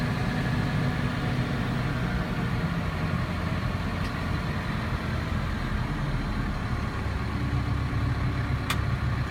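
Massey Ferguson 5611 tractor engine held at full throttle with the PTO limited to 540 RPM, a steady, loud, continuous low rumble heard close with no talk.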